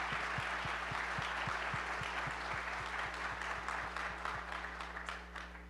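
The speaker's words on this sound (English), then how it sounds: "Let's give Miss Downey another round of applause." An audience at an atheist-theist dialogue event gives a speaker a round of applause, a dense, even wash of clapping that tapers off toward the end over a faint steady electrical hum with regular low ticks.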